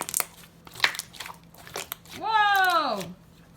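Slime is squeezed and crunched in short crackly bursts, close up, with children's excited voices and a rising squeal over the top.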